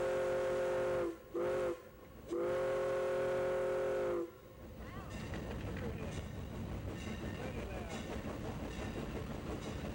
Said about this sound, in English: The 72-ton Iron Horse gallops down the tracks near Palestine.